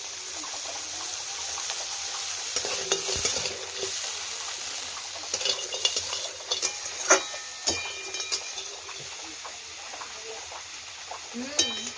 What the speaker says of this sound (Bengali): রেসিপি বানালে কাঁকড়াটা যদি এরকম ভাবে একটু ভেজে নেওয়া যায়